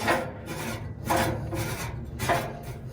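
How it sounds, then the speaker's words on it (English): A metal adjustment rod is screwed into a tack-welded nut on a Green Mountain Grills pellet grill, producing close, rhythmic grinding rasps in three distinct strokes. "We're gonna screw this into it."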